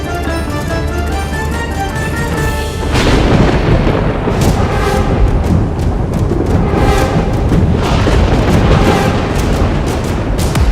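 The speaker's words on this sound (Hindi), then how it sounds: "ये भीषण आंधी, ये मूसलाधार वर्षा" A violent storm rumbles with deep booming thunder over a dense roar of heavy rain, loud and continuous throughout, with the strongest bursts after the first few seconds.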